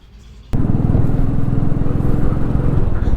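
A motorcycle heading out onto a road in Delhi, its engine thudding close and loud in a steady rhythmic pulse that starts suddenly and keeps running.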